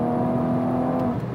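A Toyota MK5 Supra with a built ZF8 transmission pulling hard, a loud continuous engine drone with a steady whine heard from inside the car, briefly easing at the end.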